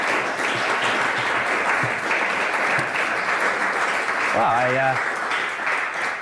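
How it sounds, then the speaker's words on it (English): Applause from an art auction crowd after a sale rolls on steadily, a thick dense clapping that stays loud throughout, with a voice speaking briefly over it near the end. "I think that deserves a round of applause."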